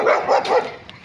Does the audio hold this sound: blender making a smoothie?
no